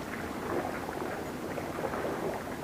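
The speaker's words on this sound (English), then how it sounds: "this wind isn't helping. It keeps blowing the line back out." Steady outdoor wind during fishing, a continuous broadband rush buffeting the microphone with a low rumble, fairly loud and unbroken throughout.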